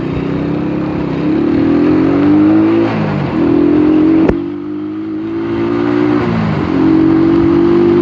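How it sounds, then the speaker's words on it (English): Road traffic on a night ride, heard from on the bike: a loud, steady engine drone with vehicles accelerating and shifting, a sharp click midway, and the hum continuing throughout with no voices. "traffic's building up again"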